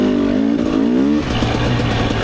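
Two-stroke dirt bike engine, a Rieju MRPro / Gas Gas EC300, revs hard on a Michigan trail loop, its pitch climbing in a steady rising whine, then settling into a loud, rough, buzzing drone close by.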